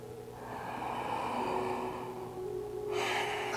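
A long, slow breath out during yoga breathing, close and steady, airy and continuous for several seconds, followed by a brighter rush of air near the end.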